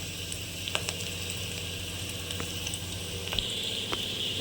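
Onions frying in a pan for nuggekai sambar, a soft steady sizzle with faint bubbling and a few light spoon taps and scrapes, quiet and close, with no one speaking.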